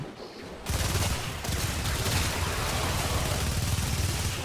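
Heavy, sustained video game gunfire bursts in after a brief quiet start and continues loud and dense for several seconds, like rapid volleys blending together.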